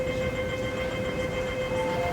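A C train at Siu Hong Station, heard as a steady rumbling hum of rolling stock with a sustained tonal whine throughout, fairly loud and constant, no voices.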